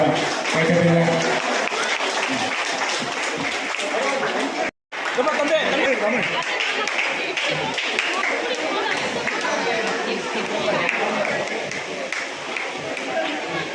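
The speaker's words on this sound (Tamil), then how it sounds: "கொஞ்சம் நல்லா கைத்தட்டாங்க." An audience claps and chatters at an anniversary celebration of a government music school, with steady applause mixed with crowd voices and a brief drop-out near the middle.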